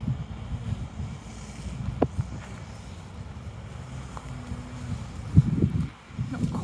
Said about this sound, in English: it's very noisy with the wind.